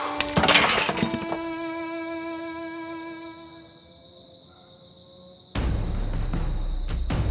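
Glass bottles smash sharply at the start inside a small house, shards ringing and tinkling as they settle, followed later by a burst of harsh noise.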